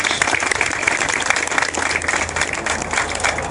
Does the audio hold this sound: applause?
yes